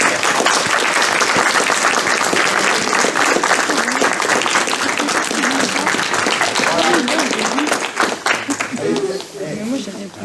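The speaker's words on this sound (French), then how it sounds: "Tout le monde peut applaudir." A crowd at an 11 November Armistice Day ceremony in Mittersheim, France, applauds with dense, sustained clapping that stays loud for several seconds before thinning out, with a voice coming through as it fades.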